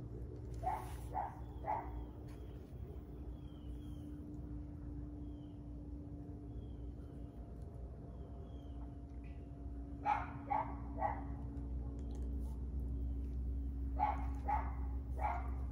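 A neighborhood dog barks outdoors at a distance in irregular clusters of three or four barks, early, again near the middle and at the end, faint against a steady low outdoor hum with no talking.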